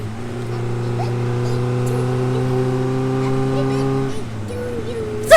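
A motorcycle engine in a video game drones at steady revs while riding, a loud harmonic hum that drops off and changes near the end, with talk faintly in the background.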